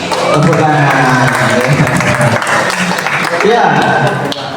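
An audience at a one-year anniversary media event claps together in a loud, dense burst of applause, mixed with voices and crowd chatter throughout.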